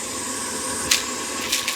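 Vacuum cleaner runs steadily while cleaning out a clothes dryer, a loud continuous broadband whoosh with a few brief hissing surges as the nozzle shifts, no voices.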